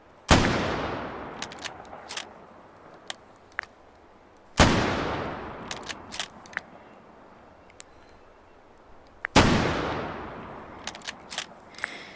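Three loud, sharp Lee-Enfield rifle shots ring out several seconds apart in the VR game Hot Dogs, Horseshoes and Hand Grenades, each trailing a long echoing decay, with small metallic bolt clicks and clatter in the gaps.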